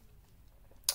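A navy blue case clipping onto an iPhone 12, a single sharp plastic click near the end after near silence.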